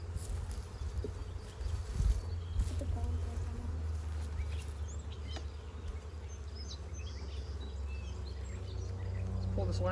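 Honey bees buzz around an open hive, a constant low droning hum with scattered louder passes near the microphone, while people talk faintly in the background.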